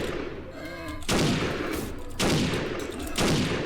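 Rapid bursts of gunfire from a battle in the Animal Revolt Battle Simulator game crack out in three loud, dense volleys, each running about a second, close and continuous, with no speech.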